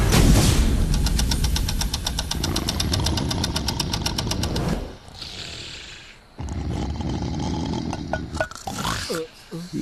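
A diesel car engine running low on fuel rumbles loudly and steadily at close range, then cuts out abruptly about halfway, leaving quieter mixed background sound.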